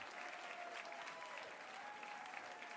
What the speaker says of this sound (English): One more round of applause to the USC drum line.